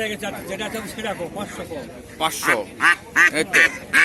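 Country ducks quack in bursts at the traditional Mataji haat village market in Naogaon, loud and close, at first mixed with a voice and then alone in a quick series of calls.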